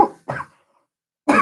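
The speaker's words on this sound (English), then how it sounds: "Apologies for this brief intermission while I cough." Coughing from someone who swallowed a drink the wrong way: two short, close coughs, a pause of silence, then another sharp cough.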